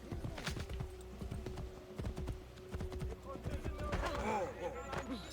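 Rhythmic clip-clop of horse hooves trotting steadily in the game Assassin's Creed Brotherhood, with a voice talking over them and a brief whinny-like sound near the end.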